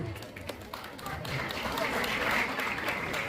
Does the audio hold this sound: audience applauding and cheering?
yes